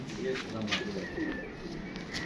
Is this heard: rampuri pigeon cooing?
yes